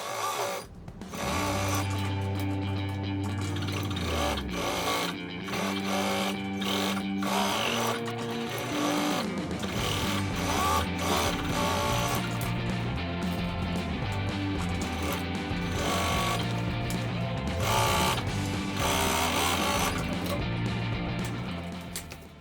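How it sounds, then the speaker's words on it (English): A sewing machine stitches the flap cover onto the rear body of a fabric backpack, running loud and steady with a dense mechanical whir close up, almost unbroken, with only brief slowdowns near the start. "next I sew the flap cover that become one with the rear body of the bag"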